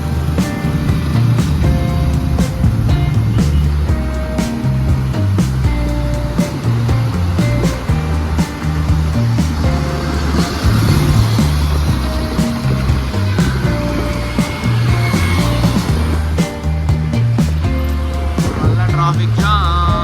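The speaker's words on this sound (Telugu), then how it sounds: "traffic jam" Dense road traffic stuck in a jam in Hyderabad, with a steady loud blend of engine rumble and street noise running continuously throughout, busy and close by with no clear pauses.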